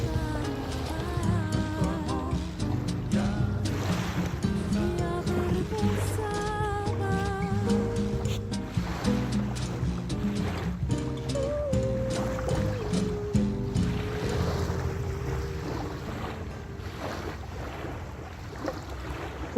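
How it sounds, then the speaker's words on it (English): The sea rolls near the shore in a steady wash of surf and wind buffeting, mixed with tonal music-like sounds throughout, continuous and fairly loud. "I hope they're not canceling out the nice sound from the sea here."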